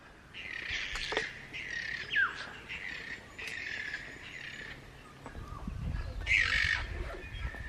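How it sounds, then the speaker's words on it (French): Several birds squawk and chirp in bursts around the listener at the Zealandia wildlife sanctuary in New Zealand, harsh calls with a few sharper whistles, fairly close, with quiet gaps between. "je sais pas si vous entendez les bruits des oiseaux de partout"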